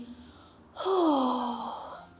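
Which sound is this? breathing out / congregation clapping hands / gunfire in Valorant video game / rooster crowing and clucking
breathing out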